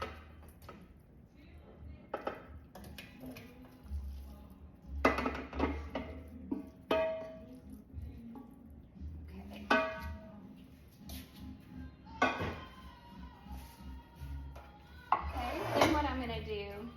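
Sausage potato casserole scraped and spooned into a greased 9x13 pan, with intermittent clinks and knocks of utensil against pan, soft and close, between quieter pauses.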